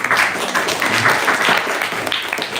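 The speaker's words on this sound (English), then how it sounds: "Give him an applause." Children in a kids' class on the Bhagavad Gita clap together in a sustained burst of applause, dense and fairly close, with a faint voice briefly audible underneath.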